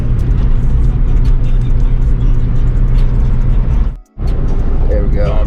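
A Nissan 350Z with a manual transmission drones loudly and steadily while being downshifted, cutting out briefly near the end before resuming, with muffled voices in the cabin.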